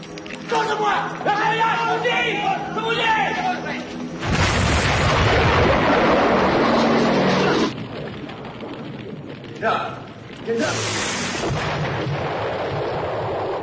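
Bombs dropping in a war film about independence-era troops: heavy booming blasts and rumbling explosions swell loud and sustained after some muffled activity, then a second burst of blasts follows a brief lull, under dramatic film soundtrack.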